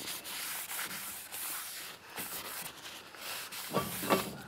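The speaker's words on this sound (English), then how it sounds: "Just give it a wipe." Steady rubbing and scrubbing of a rag against a brake rotor, close and continuous, with a couple of light clinks near the end.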